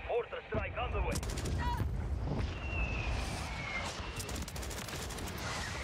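Mortar strike explosions in the Warzone video game, a dense barrage of booms and crackling blasts that rumble continuously and loudly, with a short voice heard at the start.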